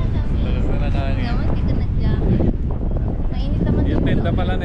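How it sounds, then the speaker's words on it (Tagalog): Strong wind blows hard at an elevated spot in Tagaytay, a loud, steady buffeting rush against the microphone while people talk over it. "Malakas na yung hangin ngayon."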